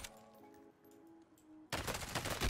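Sniper gunfire in the Warzone video game bursts in suddenly, loud and crackling, after a quiet stretch of soft tonal game sounds.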